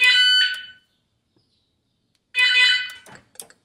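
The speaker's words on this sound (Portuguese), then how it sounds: "liguei a central do alarme aqui e testei, ele ativa e desativa o alarme" An FKS FK500VW car alarm installed in a Volkswagen Saveiro is tested, giving two loud, close electronic siren bursts separated by silence, followed by a few short chirps and clicks.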